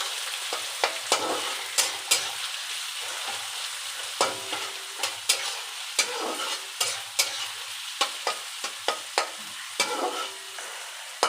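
Kalmi saag greens fried with garlic and two green chillies sizzle steadily in a pan while a spatula knocks and scrapes in an irregular rhythm of sharp clacks, close and clear with no voices.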